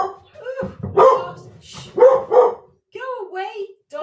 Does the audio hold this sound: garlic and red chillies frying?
no